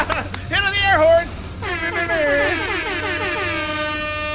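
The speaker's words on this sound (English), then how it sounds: "Hit on the air horns!" A loud air horn blares in long, wavering blasts, first a short burst then a sustained, shifting honk that drones on to the end.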